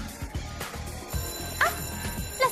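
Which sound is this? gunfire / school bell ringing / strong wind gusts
school bell ringing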